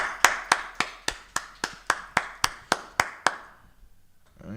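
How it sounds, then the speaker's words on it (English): A group clapping in unison at the start of a class, about a dozen sharp evenly spaced claps in a steady rhythm, then a pause with a faint sound at the end. "We go ahead and clap it up."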